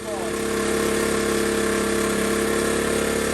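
A Honda CT70 motorcycle's small engine idles steadily and loudly up close, a continuous hum with a low rhythmic pulse and no break, running while smoking from excess oil.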